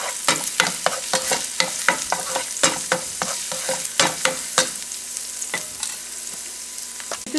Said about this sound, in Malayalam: ഇനി ഇതൊന്ന് സോട്ടേ ഇതൊന്ന് നന്നായി സോട്ടേ ചെയ്തെടുക്കുക.